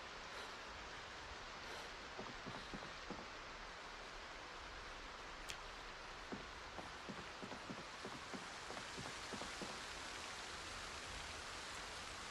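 Steady rainfall in the Project Zomboid game, a soft even hiss of rain with scattered faint droplet taps throughout, alone and quiet.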